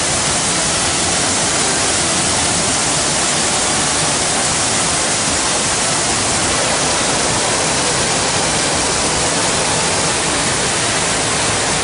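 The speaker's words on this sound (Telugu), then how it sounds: "రాత్రి 10 గంటల సమయంలో అధికారులు 5 అడుగుల మేర గేట్లెత్తి నీటిని కిందకి వదిలారు" Floodwater pours from reservoir gates opened five feet at night, a loud, steady, unbroken roar of rushing water that fills the whole stretch with no voices.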